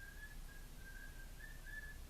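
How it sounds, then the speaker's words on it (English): A faint, thin pet bird whistle repeats in short held notes, a few quiet tones strung together over a low indoor background hum. "That was my bird whistling."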